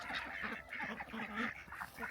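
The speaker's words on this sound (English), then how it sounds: "Mixed between runner ducks and cayugas." A flock of runner ducks and Cayuga ducks kept as backyard layers quacks and honks nearby, several birds calling over one another in a busy overlapping chorus.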